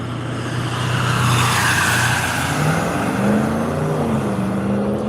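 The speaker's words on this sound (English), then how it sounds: "everybody with their noisy noise kits connected to their trucks and motorcycles and cars" A loud, continuous drone of passing vehicles with noisy aftermarket exhaust kits, engines rising and falling in pitch as cars and trucks roar by nearby, with no talk.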